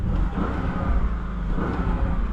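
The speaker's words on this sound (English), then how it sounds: "V8 sounds good." A 2024 Porsche Cayenne S Coupe V8 rumbles close by with a steady throaty idle and slight revving swells, loud and continuous throughout.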